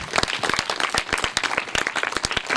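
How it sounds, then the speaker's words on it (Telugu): A crowd at an International Yoga Day event by a local society claps in honour of the sage Patanjali, with close, uneven, fairly loud handclaps continuing throughout. "పతంజలి గురువు గారికి ఒక్కసారి గట్టిగా చప్పట్లు"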